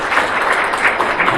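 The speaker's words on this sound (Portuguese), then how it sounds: "por favor, palmas para o general" Audience applause for a general at the opening of a cybersecurity summit in Brazil, a dense, loud burst of clapping lasting just over a second.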